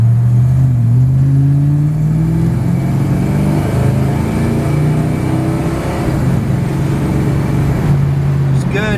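A 1966 Dodge Monaco with a 383 V8 and TorqueFlite 727 automatic drives along, its engine droning loud and close as the pitch climbs and drops through the shifts, while someone talks over it.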